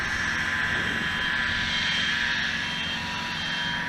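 An E-flite Apprentice S 15e electric RC plane flies over a park, its motor giving a steady high whine that stays fairly loud and even throughout, with no talking.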